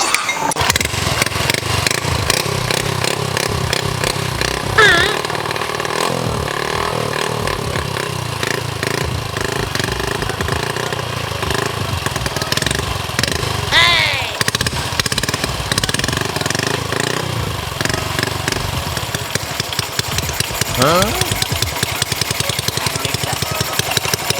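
A motorcycle engine fires up for the first time and runs, a loud, close, rough rattling putter that stays dense and continuous with brief throttle blips, no talk over it.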